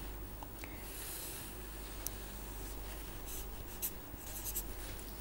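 Pen or marker scratches on a board or paper as a graph is sketched by hand during a lecture. The strokes are soft and intermittent, close by and quiet, with no talking.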